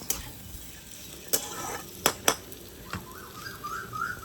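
Bottle gourd peels fry in a pan with a quiet, steady sizzle, broken by a few sharp stirring clicks and scrapes of a utensil against the pan.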